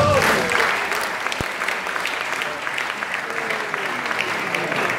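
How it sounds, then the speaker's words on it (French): An audience in a church applauds during a sermon, a dense, loud burst of clapping that holds steady, with a voice briefly over the start. "Est-ce qu'on peut acclamer pour ça?"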